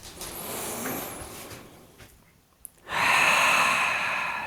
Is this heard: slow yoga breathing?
yes